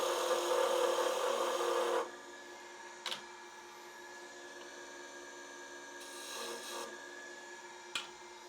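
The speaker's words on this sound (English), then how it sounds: "I'll get that with sanding." Steady raspy rubbing of sandpaper on wood for a couple of seconds, then faint scraping with a few small knocks and taps.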